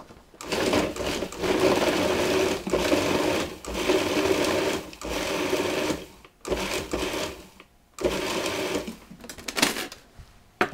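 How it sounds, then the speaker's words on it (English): A food processor pulses butter into small pieces for a walnut streusel topping on vanilla chocolate chunk muffins, giving repeated loud mechanical whirring bursts separated by short pauses, with no talking. "I'm going to pulse this until the butter is down to little pieces of like about 1/8 of an inch or 2 to 3 millimeters"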